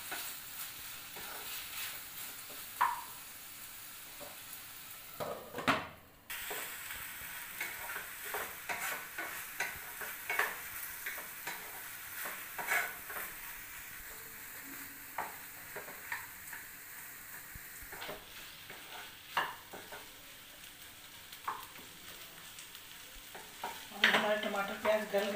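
Tomatoes and onions cook with salt in a pan for paneer makhni, a faint, steady sizzle under repeated light scrapes and taps of stirring throughout, with no talking.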